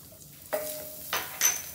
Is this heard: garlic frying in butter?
yes